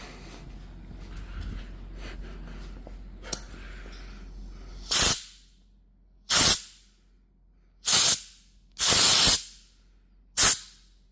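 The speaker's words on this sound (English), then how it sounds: "Where's our air hose at? I'm gonna blow this out." An air hose blows compressed air through a part being cleared, giving five loud, sharp hissing blasts separated by short pauses after a quieter stretch of background noise.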